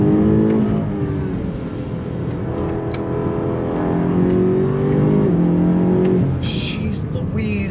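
A 2022 BMW M5 CS accelerates on throttle in second gear from a slow roll, its engine note loud and close, rising steadily in pitch with a rough, harmonic-rich growl.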